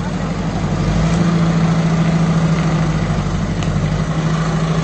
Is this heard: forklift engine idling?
yes